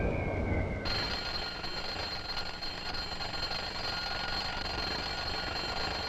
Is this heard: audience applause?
no